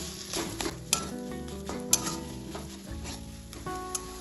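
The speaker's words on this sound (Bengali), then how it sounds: "লবণটাও ভালোভাবে মিশিয়ে নেব" Mashed potato filling with half a spoon of salt being mixed in a pot for an atta and potato tiffin snack, with scraping and stirring and occasional sharp utensil clinks against the vessel.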